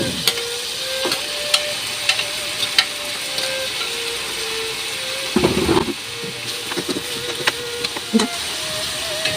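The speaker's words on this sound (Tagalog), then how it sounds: "Saka natin ilalagay ang chicken." Chicken cooks in a pot of munggo with a steady low sizzle, joined by scattered clicks and clinks from stirring utensils and a brief louder scrape midway, close with no voices.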